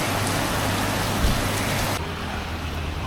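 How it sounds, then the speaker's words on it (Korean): Steady heavy rain falls in Vung Tau, Vietnam, a dense continuous hiss that stays close and loud throughout, with no voices. "지금 약 3시간 정도 계속 비가 와가지고"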